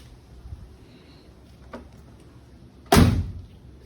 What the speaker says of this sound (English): These doors close with 2 fingers.